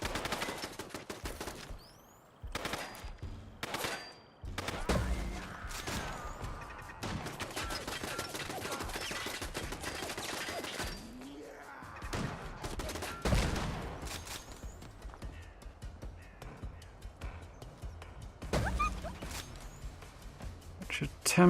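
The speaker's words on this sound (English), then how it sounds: "somebody's shooting." Bursts of gunfire from the Fallout London video game, rapid automatic volleys and single shots repeating throughout at moderate volume, with someone talking over parts of the fighting.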